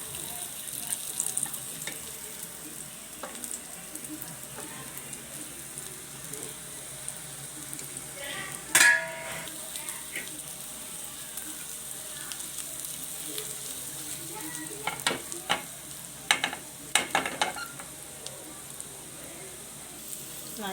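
Oil sizzles and crackles softly as prawn cutlets shallow-fry in a pan, with a few sharper clinks and spatters toward the end.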